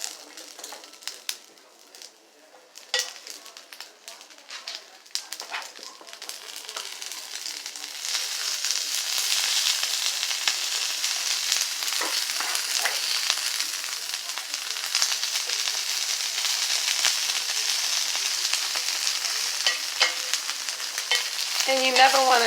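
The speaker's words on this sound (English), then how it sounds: "now we're going to start adding the asparagus" Asparagus sizzles steadily in a hot frying pan while being stirred, the frying noise starting quieter and building to a loud, continuous crackle that carries on to the end with no talking.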